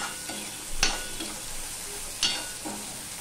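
Turmeric, chili powder and cumin powder fry with a splash of water in a pan for a Bengali spicy prawn curry. A soft, steady sizzle runs throughout, broken by two sharp spoon clanks against the pan.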